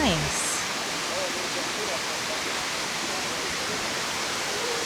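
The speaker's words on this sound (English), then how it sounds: "And so this is the top of the other waterfall." A waterfall at a spring in a Florida state park pours in a constant, broad rushing roar, with a brief voice audible at the very start.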